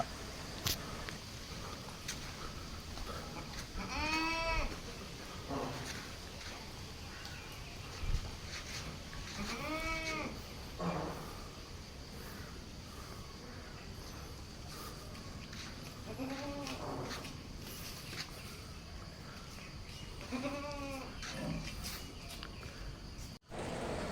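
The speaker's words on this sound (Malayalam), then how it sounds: "മൂന്ന് മാസം ചെനയുള്ള ഒരു ക്രോസ് ബ്രീഡ് ആട്ടിൻകുട്ടി" Cross-breed goats bleating at a farm, four or five separate wavering calls spaced several seconds apart over a steady outdoor background hum with faint crickets and footsteps.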